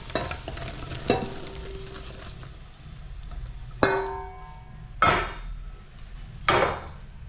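Soya chunks (meal maker) dry-fry in a pan for a curry, a steady soft sizzle broken by several sharp metallic clanks and scrapes of a spoon stirring against the pan, close up with no talk.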